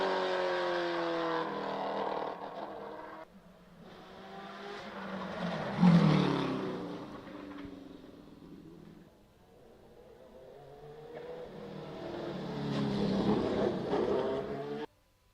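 A Gould GR57 Judd race car climbs a wet hillclimb course, its engine swelling as it approaches and fading away, then rising again in the distance, with spray-like hiss over the whine.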